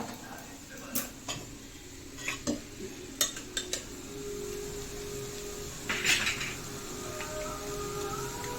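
Cooked chicken tipped into masala in a pot and stirred, with soft wet stirring, a few clinks of a spoon against the pot and a low sizzle underneath, a voice speaking briefly.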